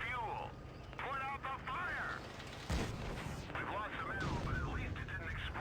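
A tank cannon booms once in a tank battle game, a heavy, sudden blast midway with a rumbling tail, while someone talks excitedly over the action before and after.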